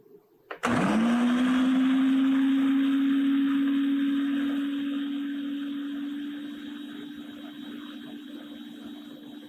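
Food processor pureeing a small batch of hot cooked butternut squash, starting with a click and then a loud, steady motor whir that slowly drops in pitch and softens over about nine seconds, with no talking.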